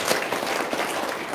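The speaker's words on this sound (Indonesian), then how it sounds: "Tepuk tangan dong dari Medan." Audience applause during a talk and testimonial session, a steady dense wash of many hands clapping at once, moderately loud and continuous for a short stretch with no voices on top.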